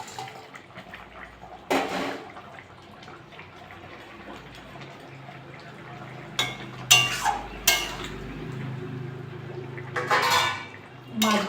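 Parshe fish dropped into a simmering pot of potato and potol curry, giving a few sharp splashy clatters over a low steady bubbling, close and moderately loud.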